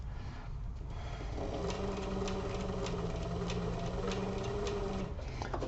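A home sewing machine stitches through the layers of a fabric toiletry kit, giving a steady close mechanical hum with regular ticking stitches after a quiet first second, and no talk.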